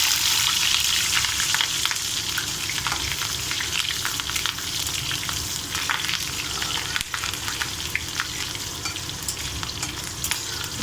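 Green chillies and fennel seeds fry in hot oil for a cauliflower fry, giving a steady, loud, close sizzle that continues without a break, with no voices.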